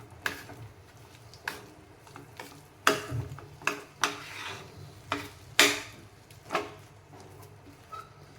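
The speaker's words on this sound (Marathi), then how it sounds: "या दुधामध्ये आपण व्यवस्थित रवा मिक्स करायचा।" Semolina being stirred into milk in a pan, with a spoon knocking and scraping against the pan in scattered close taps over a quiet background.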